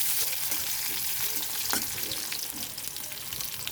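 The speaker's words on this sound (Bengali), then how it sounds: "আর একটা তেজপাতা দিয়ে একটু নেড়ে খিচুড়িটাই ফোড়ন দেবো।" Dried red chilies, fried onion and a bay leaf tempering in hot oil for khichuri, a close, even sizzle with a brief stirring scrape partway, quiet overall and no speech.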